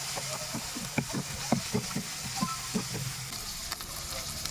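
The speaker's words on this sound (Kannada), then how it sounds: "ಟಮಾಟ ಬೆಂದಿರಬೇಕು ಬೇಸಾಗಿ, ಅವಾಗ ಮಟ್ಟ ನೀವು ಫ್ರೈ ಮಾಡ್ತಾಯಿರ್ರಿ." Tomatoes frying in a pan for rasam give a low, steady sizzle, broken by a run of soft, rhythmic clacks and taps as they are turned over, close up with no voices.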